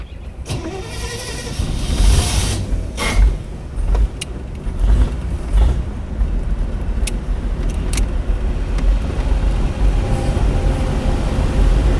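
A car in a multi-million dollar collection in Beverly Hills, running out of fuel, cranks and catches, its engine loud and close with sharp clicks and mechanical noise over a steady rumble.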